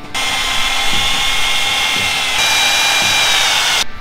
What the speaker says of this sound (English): I guess we need to drill holes in it.